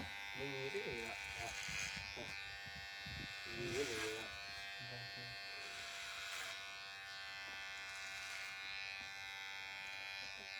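A cicada drones with a continuous high buzz through a Thai countryside scene, steady and fairly loud throughout while someone talks over it at intervals.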